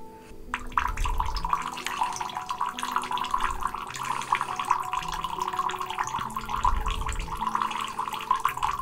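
Water pours steadily into a glass of absinthe to make it cloudy, a continuous thin trickling stream that is close and clear throughout, with no talking.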